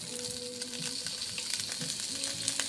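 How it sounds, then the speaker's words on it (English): Shrimp frying in a hot pan, a continuous bright close sizzle with faint crackles and a little spatula movement, no voices. "Normally we cook it on a grill, but today we're gonna cook it on a pan."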